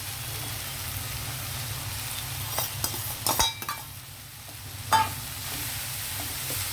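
Potato and amaranth leaf curry stirred in a pan, a steady low sizzle with a few sharp scrapes and clinks of the spoon against the metal in the middle, no voices.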